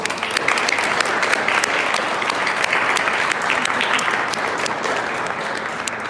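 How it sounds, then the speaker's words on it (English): A crowd at a St. Patrick's Day parade event gives the honorees a round of applause, a dense, loud, continuous wash of clapping throughout. "let's have another round of applause for all our honorees"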